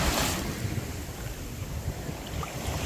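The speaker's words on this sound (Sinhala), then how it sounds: "මූදු රැල්ල." Sea waves at Negombo beach in Sri Lanka make a continuous broadband roar of surf, heavily mixed with wind buffeting the microphone.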